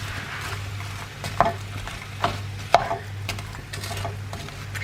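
Paste being stirred and mixed around a pan for a Tex-Mex and Italian fusion dish, giving soft scraping strokes with a few sharper utensil knocks against the pan over a steady low hum, no talking.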